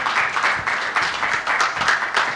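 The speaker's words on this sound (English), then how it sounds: "I think we should clap our hands to this guy." Audience at a football summit in Tanzania applauding, a dense, steady wash of clapping from many hands that carries on without a break.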